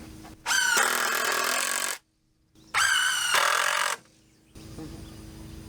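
A power driver runs screws into a metal deck hanger on a mobile home deck build, giving two loud, close bursts of whining, rattling driving about a second and a half each, then a quieter tail.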